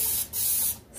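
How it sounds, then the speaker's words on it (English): Two quick hissing sprays from a spray bottle, close and crisp, separated by a short pause, with a third starting at the end. "spraying down the sink."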